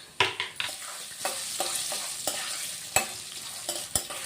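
Urad dal, dried red chillies and peppercorns frying in oil, a soft continuous sizzle broken by sharp clicks and taps of a spoon stirring against the pan at irregular intervals.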